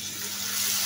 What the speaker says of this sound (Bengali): আমি একটু পানি দিয়ে নিব